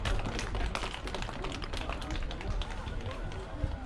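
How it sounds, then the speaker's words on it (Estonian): Outdoor crowd applause at an Estonian Midsummer bonfire gathering, a steady patter of many hands clapping for several seconds, close and moderately loud. "Aplaus."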